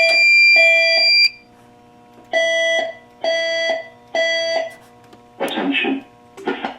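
A building fire alarm during a system test blares a repeating electronic tone in several loud bursts that then stop, followed by a voice speaking nearby.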